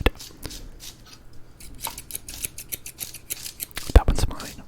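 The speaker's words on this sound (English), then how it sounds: "Scissor sounds, they're good." Close, crisp scissor blades snip and slide in short irregular bursts for an ASMR recording, with a few louder metallic clicks near the end and soft handling noise in between.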